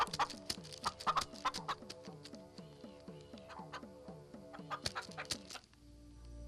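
A hen clucking in a rapid, irregular series of short sharp calls, close and clear, with a few louder squawk-like notes mixed in before it stops abruptly.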